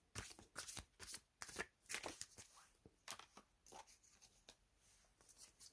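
Astrology cards shuffled in quick bursts, a run of crisp riffling flutters and soft slaps repeating over several seconds, close and fairly quiet with no voices.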